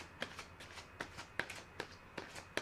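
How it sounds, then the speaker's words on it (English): Tarot cards being shuffled by hand, a close, quiet series of soft riffling slaps repeating about every half second, with no talk over it. "we're going to shuffle the cards"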